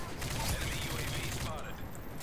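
Gunfire in Call of Duty Modern Warfare 3 free-for-all multiplayer, a dense burst of rapid shots filling the first second and a half, then tapering off, with a player's voice talking over it.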